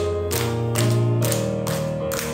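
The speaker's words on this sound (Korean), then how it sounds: "힘차게 박수 치면서 찬양하겠습니다" A church congregation claps in steady rhythm while singing praise during a worship service; four sharp broadband clap bursts land about half a second apart over sustained sung and instrumental tones.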